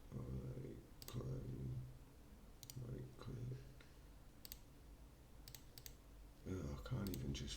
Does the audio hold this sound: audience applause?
no